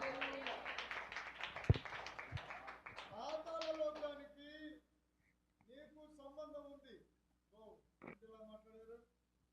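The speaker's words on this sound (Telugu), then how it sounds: "గట్టిగా చప్పట్లు కొట్టాలి." A congregation claps loudly at a church worship and prayer service: dense, rapid applause for about three seconds under a voice, followed by speech alone.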